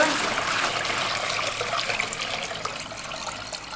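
Water poured from a container into an old oil pan outdoors by the Feather River during gold prospecting, a loud continuous close splashing gush that slowly tapers off.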